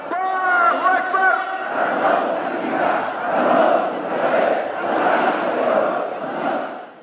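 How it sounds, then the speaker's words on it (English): Huge crowds rallying in the streets of Sana'a in solidarity with Palestinians, a mass of voices chanting in loud rhythmic waves that rise and fall continuously. "They're just these huge crowds of people holding up their slogan, holding up images of the Houthi leader."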